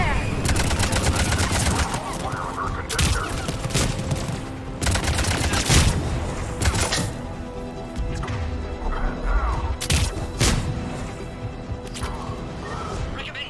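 Heavy video game gunfire erupts at a checkpoint in Mass Effect 3, with loud bursts of automatic fire, sharp impacts and crashes coming in dense clusters and short pauses. Voices can be heard faintly in the mix.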